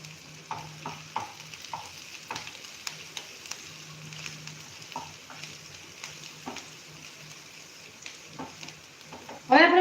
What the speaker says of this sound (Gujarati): એમાં નાખીશું આદુ અને લીલા મરચાં. હવે એને આપણે સરસ એવું રોસ્ટ કરી લેશું.